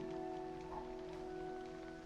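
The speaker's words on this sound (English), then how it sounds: "The rain." Steady, soft rain patters continuously against a surface, a faint even hiss with a low constant hum in the background.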